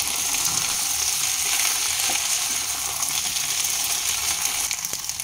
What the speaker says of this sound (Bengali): এবার রাঁধুনি বাটাটাও দিয়ে দিলাম। আমরা 1 মিনিট কষিয়ে নেব।